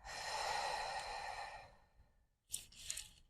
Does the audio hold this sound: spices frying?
no